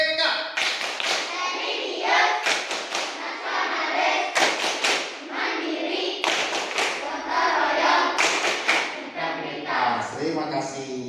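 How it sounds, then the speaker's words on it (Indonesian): A class of children chant together while clapping in a rhythmic pattern during a school rhythmic gymnastics lesson, claps and voices loud and close, with repeated bursts of sharp handclaps. "sekarang tepuk PPK"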